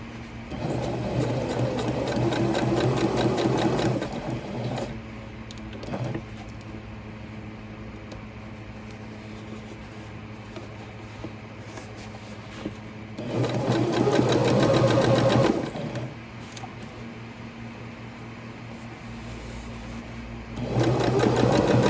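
A sewing machine stitches a silk petticoat with a small stitch, running in three close bursts of rapid mechanical chatter. A steady low hum fills the pauses between the bursts.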